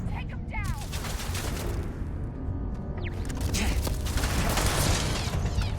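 A video game turret firing in a steady barrage of mechanical gunfire and clanking impacts that grows louder toward the end, with a brief voice heard amid the noise.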